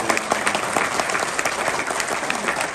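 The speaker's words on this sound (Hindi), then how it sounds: "एक बार जोरदार ताली बजाएंगे" Loud, dense clapping from a mushaira audience at a Dubai Urdu poetry gathering, steady and close throughout with a few sharper claps standing out and no talk over it.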